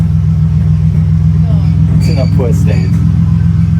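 A car idles and rumbles steadily nearby as it is moved out of the way, the low engine drone constant throughout, with people talking over it.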